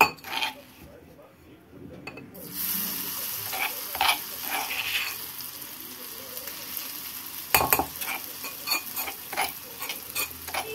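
Crushed red chili thecha lands in hot oil with mustard seeds for Kolhapuri kharda. After a near-silent opening, a loud burst of sizzling hiss rises and holds, marked by spoon-against-pan clinks and scrapes as it is stirred.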